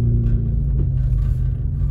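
A car driving slowly through an icy parking lot in Big Bear with snow packed in the wheel area, making a steady low rumble that continues without pause.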